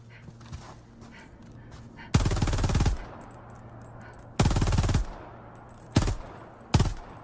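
A Helldiver fires rockets in Helldivers 2. There are four loud, dense bursts of rapid firing, each lasting about half a second to a second, with quieter game ambience between them.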